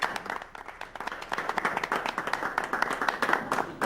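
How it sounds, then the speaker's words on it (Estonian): Dense, continuous clapping from a crowd of people, steady and fairly close throughout, with a few voices faintly mixed in underneath. "Plaksut tuli siin."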